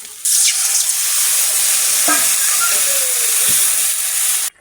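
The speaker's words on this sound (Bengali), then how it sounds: "কষাই হয়ে গেছে এর জল দেবো" Water is poured into a pan of frying spice masala with chilli powder, setting off a sudden loud, sustained steamy hiss and sizzle that runs for several seconds before cutting off abruptly, close and alone.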